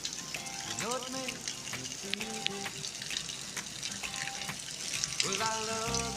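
Heavy rain pours steadily outside a house, a dense continuous wash of water sound with splashing drops, while a voice sings and talks over it close by.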